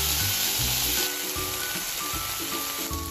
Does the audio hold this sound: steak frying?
yes